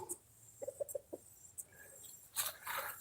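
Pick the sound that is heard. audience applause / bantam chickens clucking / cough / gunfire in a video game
bantam chickens clucking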